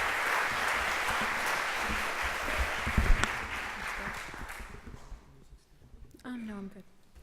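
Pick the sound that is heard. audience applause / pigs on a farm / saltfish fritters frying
audience applause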